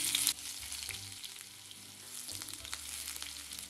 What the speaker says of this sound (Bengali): তেল কিন্তু গরম হয়ে গেছে, দিয়ে দিচ্ছি কুচিয়ে রাখা পেঁয়াজ।